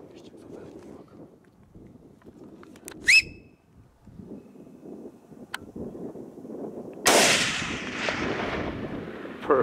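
A single gunshot cracks during a wild boar hunt, sharp and loud with a long broadband echo rolling away afterward. It follows quieter outdoor ambience with a brief bird call and some speech.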